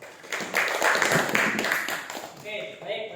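A classroom of students claps together for several seconds, a brisk, fairly faint patter of many hands that fades as a voice speaks at the end.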